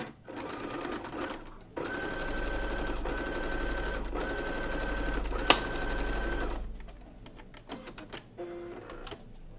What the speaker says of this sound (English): on the curve, we're going to be sewing it at 1/4 of an inch